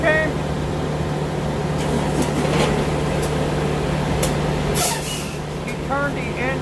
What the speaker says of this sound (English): the reefer unit, which is a refrigeration unit, didn't shut off